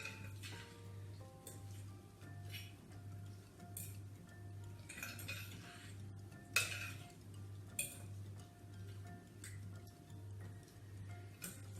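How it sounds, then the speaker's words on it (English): A spoon stirs a dish containing preserved lemon in a pot, giving faint scattered clinks and scrapes over a steady low background hum, with no talking. "I'm just going to stir everything. Make sure that preserved lemon gets stirred through."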